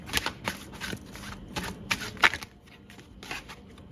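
Tarot cards are shuffled and drawn by hand, giving a run of quick papery riffles and flicks in uneven bursts, close and fairly quiet, with the handling thinning out toward the end.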